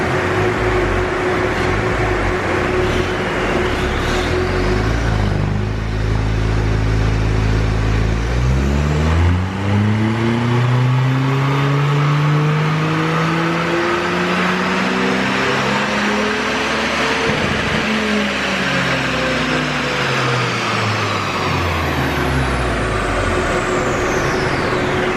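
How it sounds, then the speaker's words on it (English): A Ford Fiesta ST180 engine revs on a dyno run, climbing through the gears in long rising sweeps with a steady loud drone and no talk. "So this is the first dyno run now we're doing."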